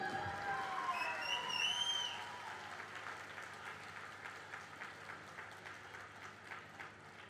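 An audience at a speech claps in sustained applause, loud and dense at first, then thinning into a steady, lighter patter of hands that carries on to the end.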